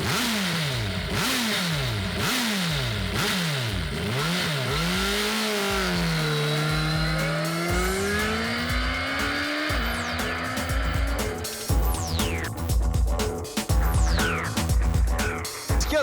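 A Suzuki Hayabusa sport motorcycle engine revs hard in repeated rising and falling sweeps, then climbs in pitch as it accelerates, loud and close.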